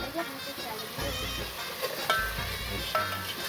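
Mixed vegetables (carrot, cabbage, onion, capsicum and tomato) being stirred and lightly sautéed in a pasta gravy, giving a steady soft sizzle with scraping stir sounds and a couple of brief clinks.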